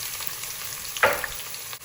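Sliced whole onion and fennel seeds frying in hot oil for a prawn curry, a steady soft sizzle with a brief louder burst as the onion hits the pan, no talking.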